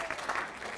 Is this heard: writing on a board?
no